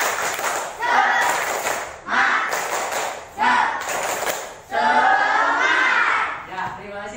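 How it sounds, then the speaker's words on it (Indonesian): A classroom of children does a group tepuk semangat, a rhythmic clapping chant, in four loud bursts of claps and chanted voices separated by short pauses. "Untuk menambah semangat lagi, kita tepuk semangat."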